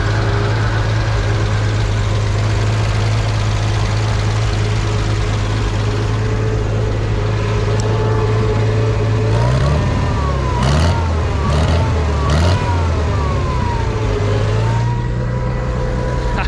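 A Farmall 460 tractor engine idles with a loud, steady low drone that stays close and even throughout, with a brief wavering surge partway before settling back to a smooth idle.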